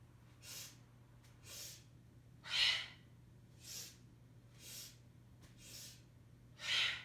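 Forceful yoga exhales pushed through the nose, seven sharp snorting breaths at about one-second intervals, close and clear against a quiet low hum, with no talk between them.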